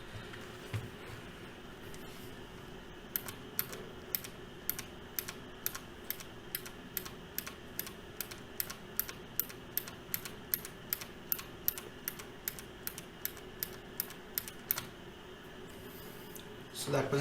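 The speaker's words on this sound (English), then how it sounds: "and this is the sound of just the switch itself." A bare mechanical key switch on a budget hot-swappable Quantum QHM9800 keyboard, keycap removed, is pressed repeatedly: a steady run of sharp, close clicks at an even rhythm, faint background hum between them, no talking.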